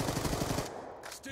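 Automatic gunfire in the video game Black Ops 2 during a Raid Domination match, a quick rattling burst of rapid shots lasting under a second, then fading into quieter game sounds.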